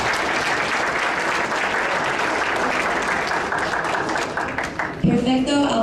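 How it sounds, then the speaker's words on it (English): A crowd applauds a senior volunteer at an awards ceremony honoring community volunteers, sustained dense clapping that drops off near the end as a voice and other sounds come in. "Let's give a round of applause for Vinh Van Lin"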